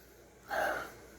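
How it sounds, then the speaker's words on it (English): A single quick nasal sniff, close and fairly soft, taken over an opened container of orange citrus paint stripper gel, with quiet room tone before and after. "Take a good sniff."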